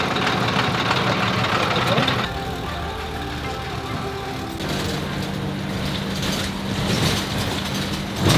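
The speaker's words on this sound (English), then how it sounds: "I can hear the wild call of the El Salvadorian bus" An old, very noisy El Salvadorian chicken bus rattles and clanks with a steady mechanical drone while idling and moving. There is a shift in the texture partway through, with the engine rumble continuing underneath, and no one speaks.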